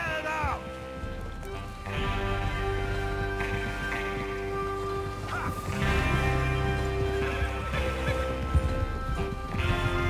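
Horses in Red Dead Redemption 2 whinny and gallop along to a swelling musical score, with hooves and neighing up close and loud.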